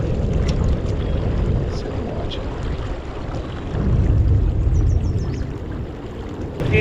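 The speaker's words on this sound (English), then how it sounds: "I can hear two engines." Outboard boat engines hum low and steady on the Snake River, mixed with wind buffeting the microphone and water noise, the drone swelling slightly midway with no talking.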